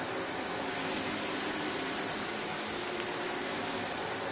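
A Shark DuoClean NV801 vacuum cleaner runs close by, sucking fine sawdust out of carpet pile with a steady loud whooshing hiss and high motor whine.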